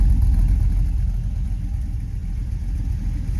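An old black truck with newly fitted fuel injection idles roughly with a low, choppy rumble, close and loud, the uneven engine beat running steadily with no voices.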